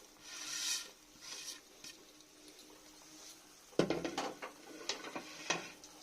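Chow mein noodles are stirred together with vegetables in a pan, giving soft scraping and light sizzling, then a burst of sharper clinks and scrapes from the utensil partway through.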